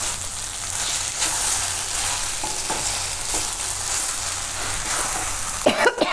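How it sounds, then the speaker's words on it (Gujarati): Beetroot sabudana khichdi sizzles in a pan while a spoon stirs it, with a steady frying hiss throughout, occasional soft scrapes, and a burst of louder clattering stirring near the end. "વચ્ચે વચ્ચે થોડુંક હલાવી લેવાનું એમ, એટલે સાબુદાણા એકદમ સરસ થઈ જાય."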